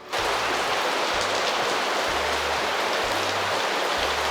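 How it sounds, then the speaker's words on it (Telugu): Heavy rain pours down steadily in a dense, unbroken hiss with a low rumbling undertone, loud and constant throughout. "ఏమి వాన కదా వినరో బాకి."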